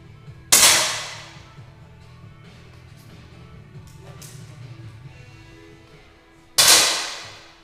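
Two sharp air pistol shots in a shooting final, about six seconds apart, each with a short ringing decay, against a quiet hall murmur.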